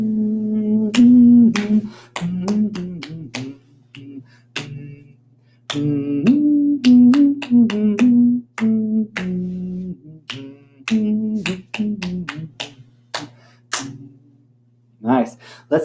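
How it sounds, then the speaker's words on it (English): Sharp hand claps in short rhythmic groups between pauses, close and crisp over a sustained low musical drone, following a children's song exercise. "let's see if we can say it and clap it this time"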